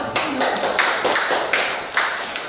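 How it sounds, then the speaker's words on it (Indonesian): A classroom claps for a student presentation group, a small cluster of hands producing sharp, distinct claps in a loose, uneven rhythm, close and fairly loud, about ten strikes over a couple of seconds. "Tepuk tangan dulu untuk kelompok 2"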